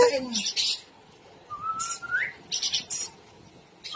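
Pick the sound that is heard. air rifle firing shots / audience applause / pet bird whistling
pet bird whistling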